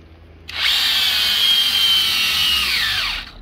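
A power drill bores into a wall to fit air conditioner brackets, a loud close steady whine that starts abruptly, holds for about three seconds, then winds down and stops.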